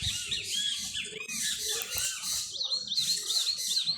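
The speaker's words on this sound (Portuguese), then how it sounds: "Canto de tudo quanto é passarinho junto." Many songbirds sing together in a dense chorus, overlapping chirps, trills and whistled phrases filling the air continuously at close to moderate distance.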